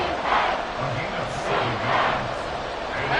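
A football stadium crowd roars steadily in the final minutes of a close fourth quarter, the dense cheering swelling louder in waves throughout.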